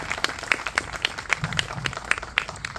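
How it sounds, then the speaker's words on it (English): Applause at a congressional campaign headquarters grand opening, a small crowd clapping with distinct, fairly sharp individual claps in an uneven rhythm, moderately close. "I want to give another round of applause to our team"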